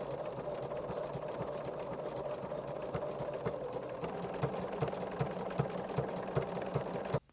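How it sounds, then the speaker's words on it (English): A sewing machine zigzag-stitches two rows of rug fabric together, running in a steady, continuous mechanical whir with rapid rhythmic needle ticks, close and fairly loud, stopping abruptly at the end. "That fabric is being pulled right through by the machine."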